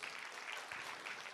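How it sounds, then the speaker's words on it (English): Quiet, distant wash of applause as attendees of a grain ethanol technical summit clap for themselves, a brief, even patter of many hands. "Please clap for yourselves."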